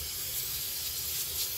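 Brake cleaner sprays from an aerosol can onto a 2018-2020 Ford F-150 limited slip differential case, giving a steady, close hiss that runs without a break.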